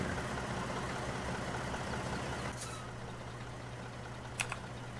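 A steady, low tractor engine rumble in Farming Simulator 17 drones throughout, with a couple of short hissing bursts near the end.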